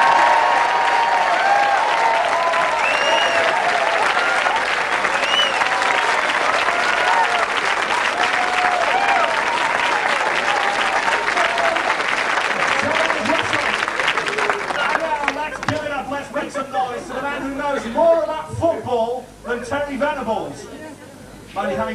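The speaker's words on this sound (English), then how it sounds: "will you please give a huge round of applause to Mr." Loud, dense studio audience applause greets astrologer Russell Grant at a 1996 ITV football pools game show pilot, sustained for about fifteen seconds before thinning into scattered claps and cheers with some voices underneath.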